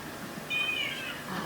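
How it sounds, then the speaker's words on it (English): A cat gives a single short meow, faint and somewhat distant, heard against a low background of room noise with no talking. "Listen to the cat."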